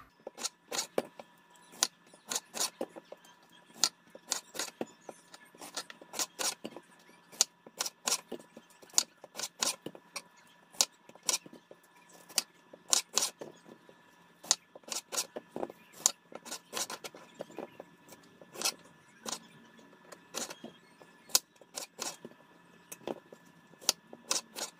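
Knife chopping fresh strawberries on a cutting board for muffin-pan strawberry shortcakes, a long run of sharp, close, irregular taps and clicks against a quiet background with no talking.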